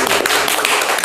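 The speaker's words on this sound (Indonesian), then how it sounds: "Tepuk tangan ya." A short burst of dense applause, many hands clapping together at once, loud and close.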